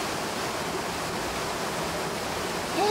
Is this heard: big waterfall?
yes